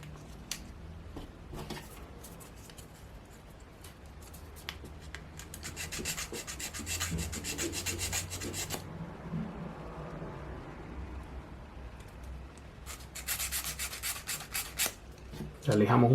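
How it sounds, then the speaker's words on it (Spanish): Hand-sanding a wooden 3D puzzle piece from a Spinosaurus model, with bursts of close, fast rasping strokes separated by quieter pauses of faint scraping and handling. "La lijamos un poco."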